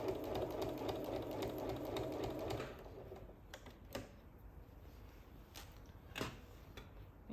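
A sewing machine runs steadily while quilting for about three seconds, then stops, leaving scattered clicks and light handling taps as the fabric is turned with the needle down.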